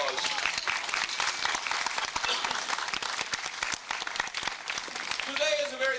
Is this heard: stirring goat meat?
no